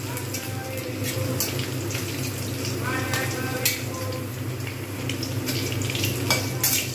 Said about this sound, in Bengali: পাঁপড়গুলোকে ছোট ছোট করে টুকরো টুকরো করে কেটে নিয়েছি এবারে আমি ভেজে নেবো